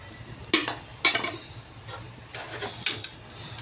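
Spoon stirring white lobia (black-eyed beans) with turmeric, coriander powder, black pepper and bay leaves in a pot, giving several scraping, clinking strokes against the metal at an uneven pace, close and fairly clear with no talk.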